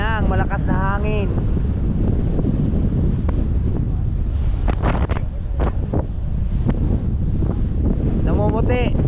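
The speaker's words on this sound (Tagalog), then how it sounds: "Yan na ang malakas na hangin." Strong wind roars across the microphone on a large boat at sea with rough waves, a steady loud gusting rush throughout, while voices talk over it.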